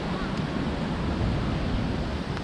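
Cold, freezing wind buffets the microphone in a snowy outdoor spot, a steady loud roar of broadband rushing noise with no pauses and no talking.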